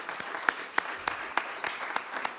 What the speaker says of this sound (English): maybe a little more applause for that